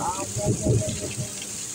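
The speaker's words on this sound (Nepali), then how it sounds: "आज धेरै पानी पऱ्यो है" Heavy downpour in Saudi Arabia, a constant hiss of rain on surfaces with a person talking over it nearby.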